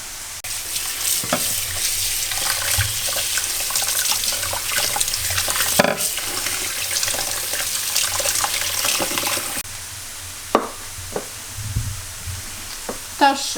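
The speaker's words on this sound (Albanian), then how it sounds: "E lajmë koprin." Fresh dill rinsed under a running kitchen tap, a steady wash of water with intermittent splashes and handling knocks, a few louder clatters near the end, close and fairly loud, without speech.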